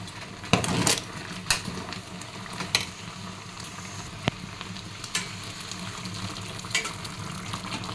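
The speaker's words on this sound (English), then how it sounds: "I think it's easy to use wooden spatula to stir it than using spoon." A wooden spatula stirs ato mboro in a pan under a steady sizzle, with occasional scrapes and knocks against the pan close by.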